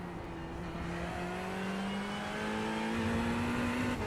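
A race car engine in the iRacing sim during a Le Mans event, a steady droning whine with slowly rising pitch as it accelerates, held at a constant moderate level throughout.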